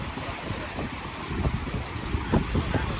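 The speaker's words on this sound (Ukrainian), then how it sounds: "Зараз тут великі хвилі." Big waves wash and break against the rocks of a beach in Spain, with gusts of wind buffeting the microphone and a few heavier surges.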